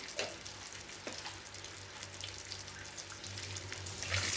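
Fennel seeds tempering in hot oil in a kadai make a steady close sizzle and crackle with soft hiss, building slightly louder toward the end, no talking.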